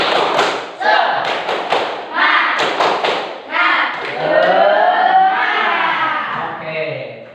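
A classroom of students does a rhythmic spirit clap, quick bursts of claps and thumps in a patterned beat, mixed with children chanting loudly together in a lively group.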